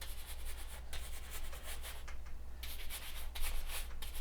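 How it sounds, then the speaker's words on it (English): A big brush scrubs dark sienna oil paint onto canvas with soft, dry rubbing strokes that come in quiet, repeated bursts and short pauses. "just kind of scrubbing in the paint with the big brush"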